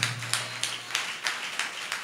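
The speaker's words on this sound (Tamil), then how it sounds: "புரிஞ்சவங்களாம் கைத்தட்டி," A church congregation claps during a sermon, giving a regular run of sharp claps about three per second. The claps are fairly soft and there is no speech.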